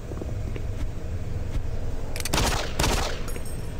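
Gunfire in the video game DOOM 3: Resurrection of Evil, with two loud, broad blasts in quick succession late in the clip over a steady background hum.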